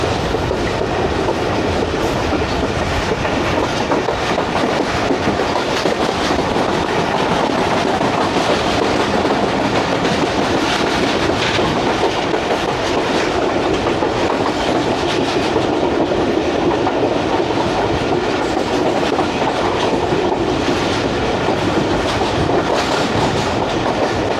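The 14DN Awam Express passenger train runs through a station without stopping, a loud, steady roar of rolling wagons with rhythmic clickety-clack from the wheels continuing throughout.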